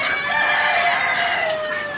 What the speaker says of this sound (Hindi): ये दिखा दूँ आपको ये उल्टा पंख की मुर्गी है और ग्राम प्रिया है